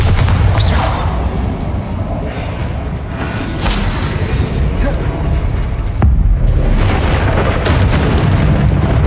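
Magical Bombarda spell blasts in the Hogwarts Legacy video game, with loud booming explosions and whooshing bursts over a dense, continuous game soundscape, including sharp impacts near the start, middle and end.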